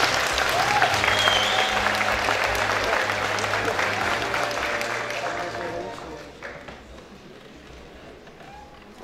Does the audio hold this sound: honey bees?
no